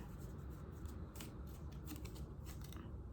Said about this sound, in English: let's pull some angel cards